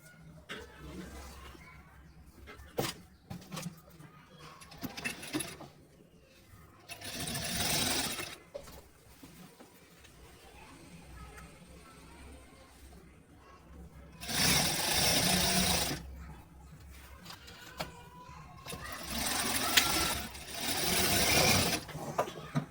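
A sewing machine stitches palazzo pants in bursts: several short runs of whirring, then two longer stretches of steady stitching, fairly quiet and close. Someone speaks in the pauses between runs.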